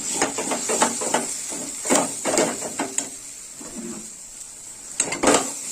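A spoon scrapes and knocks against a pan while cabbage cooks with spices for doi badhakopi, giving irregular metallic clinks and scrapes in small clusters, fairly close and with no voice.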